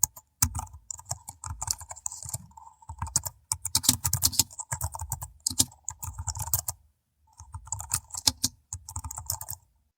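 Rapid keystrokes on a computer keyboard during spreadsheet data entry, heard close and clear in busy bursts separated by short pauses, with no voices.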